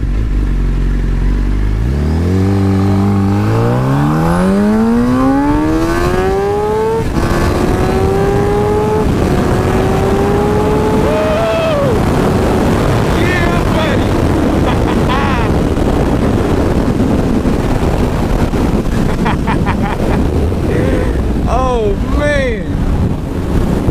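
A motorcycle engine, freshly ECU-flashed, revs up through rising pitches, shifting gears repeatedly, with heavy wind rush buffeting the microphone throughout.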